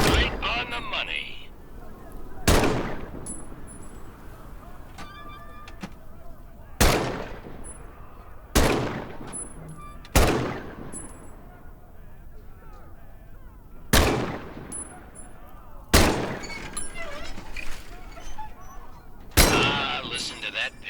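M1 Garand rifle fire in the WWII VR game Medal of Honor: Above and Beyond, six sharp, loud shots spaced a few seconds apart, each followed by a metallic clip ping and brief ringing decay.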